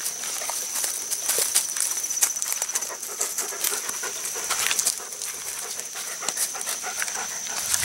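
A dog pants quickly and steadily, close by, with a bright constant high tone and faint rustles and steps in the background; no talking.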